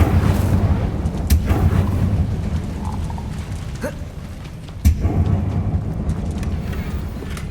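Incendio fire spell cast in the video game Hogwarts Legacy: a rumbling, roaring bed of noise with a few sharp cracks and bursts, loud and close, with no talking.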